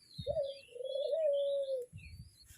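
Spotted doves at a nest, an adult feeding its chicks: a clear, sustained cooing call, close and fairly loud, with soft rustling and faint chick sounds before and after.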